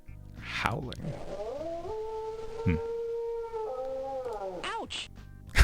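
A howling sound effect from the World Builder game: one long, drawn-out animal howl that wavers in pitch, loud and close, with brief noisy bursts at the start and end.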